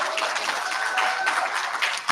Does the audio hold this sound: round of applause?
yes